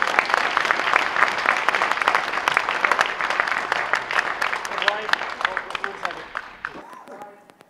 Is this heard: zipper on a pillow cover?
no